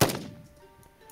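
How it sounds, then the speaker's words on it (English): A single sharp gunshot-like thump at the start, followed by a fading tail and faint ringing. "these are gunshots right here"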